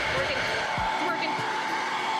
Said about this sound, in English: If my hairdryer would turn on,